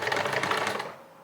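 A home sewing machine stitches in a fast, steady mechanical rattle for most of a second before winding down, close and alone.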